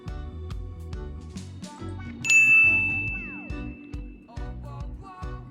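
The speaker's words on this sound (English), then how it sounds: "I will shut up and I will let the ding sound" A bright ding sound effect rings out from a Maono Maonocaster Lite AU-AM200 podcast console, one clear chime that decays over about a second amid background music.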